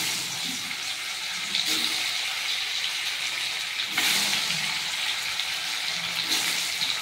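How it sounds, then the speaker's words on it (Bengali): Fish fries in a hot pan, a steady close sizzle that swells at moments as the pieces go in one by one, with low kitchen noise underneath. "এবার মাছটাকে আমি এক এক করে ভেজে নেব।"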